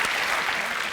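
A television studio audience breaks into loud, sustained applause on a comedy panel show, dense clapping filling the whole moment without any speech over it.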